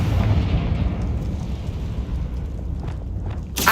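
A Confringo blasting spell explodes in Hogwarts Legacy: a deep, rumbling boom rolls out and slowly decays, followed by a sharp, bright burst at the very end, with no talking.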